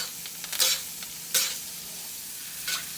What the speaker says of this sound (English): And your butter, and you start basting.